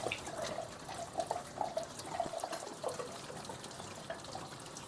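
Engine coolant splashing and dripping down from a 2006–2010 Honda Civic 1.8L after a drain plug is popped out with a pry bar, a steady close trickle with small irregular drips.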